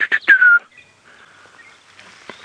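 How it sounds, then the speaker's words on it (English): Small birds calling at sunrise on a safari drive: a few quick bright chirps and a falling whistled note up front, then faint scattered calls over near silence. "Now there's some little birds flitting around there."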